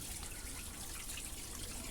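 Water from a hose flushing through the heater core pipes of a BMW E60, a dense, constant rushing gush that runs unbroken and loud throughout, heard close up.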